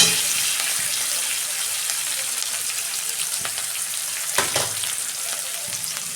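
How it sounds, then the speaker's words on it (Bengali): Chopped onions sizzle in hot oil in a pan while being fried reddish brown for a cabbage dish, a loud steady crackling hiss with a few stirring knocks and no voices. "পেঁয়াজটা আমি লাল লাল করে ভেজে নেব।"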